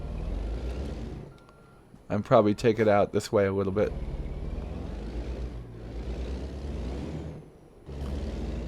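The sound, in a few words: truck backing up with air brakes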